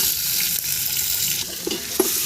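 Sliced onions hitting hot oil with cinnamon, cloves and cardamom for chicken biryani cooked over a wood fire, giving a loud continuous sizzle with a few sharper pops and stirring scrapes near the end.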